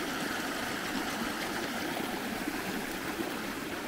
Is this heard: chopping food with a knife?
no